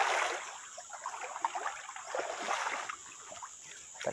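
Water of the Riacho do Saco creek flowing steadily, a soft continuous rush and trickle with small splashy bursts, fairly faint and even throughout with no voices.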